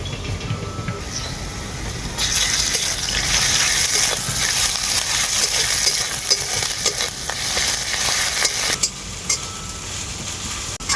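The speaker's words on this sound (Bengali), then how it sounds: "আদা রসুন বাটাটাকে আমি খুব ভালো করে ভেজে নিয়েছি" Ginger-garlic paste fries with onions in hot oil, giving a steady loud sizzle with stirring scrapes throughout, no talking.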